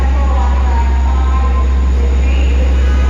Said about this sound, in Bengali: ওরা এয়ার ট্রেন এয়ার ট্রেন ঢুকছে